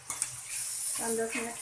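Chopped and coarsely cut onions, about 100 grams, sizzle in a pan for chole bhature while being stirred, a short steady frying hiss with a brief voice speaking over it near the end.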